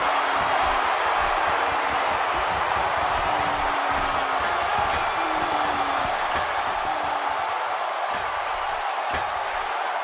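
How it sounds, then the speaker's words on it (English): Wrestling arena crowd at an NXT Takeover match roars steadily throughout as a dense, loud wash of cheering, with no pauses or individual voices standing out. "by the sound of this crowd, I think they're getting what they wanted."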